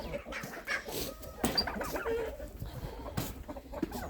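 Chickens cluck and murmur close by in a busy flock, with short squawks scattered through and a faint voice in the background.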